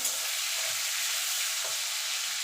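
Tomato pieces sizzle and fry in hot oil in a pan for an okra curry, a steady close hiss with a couple of soft stirring scrapes, no talking.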